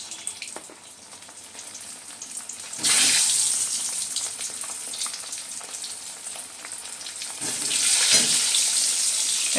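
Potato pieces fry in oil with turmeric over a lowered flame, a loud continuous hiss and sizzle that swells sharply twice as the pan is stirred or disturbed.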